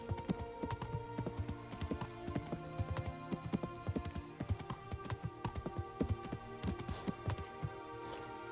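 Horse hooves clip-clop in the medieval video game Kingdom Come: Deliverance, a fairly faint, irregular string of clopping steps that keeps going the whole time with no talking over it.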